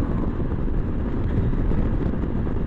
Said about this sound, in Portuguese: Ó, afinal está vento